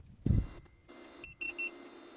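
A Starline 9B car alarm on a Mazda Bongo Friendee chirps as a Chinese Xinlong pre-start heater switches on: a dull thump, then a quick run of three or four short, high electronic beeps in a quiet space.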